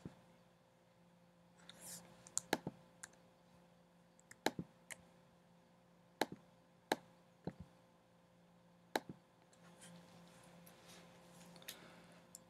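Mouse clicks while selecting items with Shift and Control in the JContextExplorer software: about a dozen crisp, isolated clicks at uneven intervals, close and fairly loud over a faint steady hum, with no talking.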